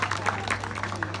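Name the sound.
audience applause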